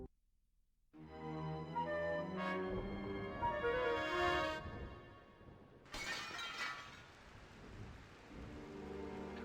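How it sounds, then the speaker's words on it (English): A stained glass window shatters in the Discworld Noir game, starting with a sudden crash of breaking glass followed by a long, ringing spill of falling shards, then a second bright burst of glass debris. "jumped screaming through the stained glass window and began to climb the temple"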